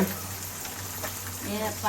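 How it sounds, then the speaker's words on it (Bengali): Pangas fish sizzles and crackles in hot oil in a pan, a continuous frying hiss close by. "ভাজি হইতেছে"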